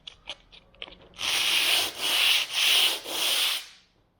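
P80 Mirka Mirox sandpaper wrapped on a wooden block is rubbed by hand across a plastered cornice in four long, close, gritty strokes, after a few light taps.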